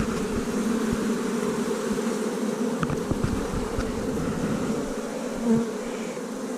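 Honey bees in an open hive, a colony being prepared for winter, give off a dense, continuous buzz close by, with a few louder passes as individual bees fly near. No one speaks.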